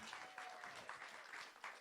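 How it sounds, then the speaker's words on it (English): An audience claps for a woman taking the stage at a talk, a faint, steady patter of many hands that fills the whole moment. "Let's give her a round of applause."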